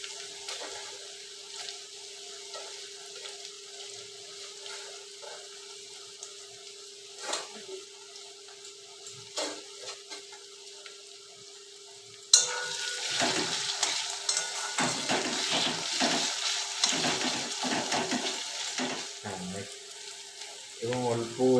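Tomatoes drop into a hot pan for chicken curry with potatoes, setting off a loud, sudden sizzle that keeps frying steadily after a quiet stretch of faint kitchen background.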